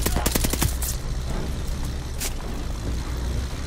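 Rapid gunfire from the Call of Duty Vanguard video game during a train heist mission: a dense burst of close shots in the first second, then a single crack amid steady rumbling background noise.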